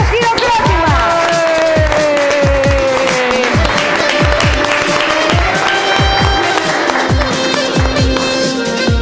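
An audience applauds and cheers as a singer is introduced on a Greek television show. The crowd noise is loud and sits on top of music with a steady pounding beat and sustained melodic tones.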